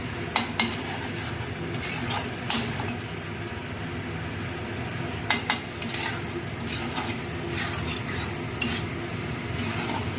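Shrimp masala is stirred in a pan, with a spoon scraping and clinking against the metal in irregular taps over a soft, steady sizzle, close by and without talk.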